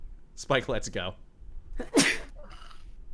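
A single sharp, loud sneeze bursts out right after a short spoken line, with a faint breathy tail after it.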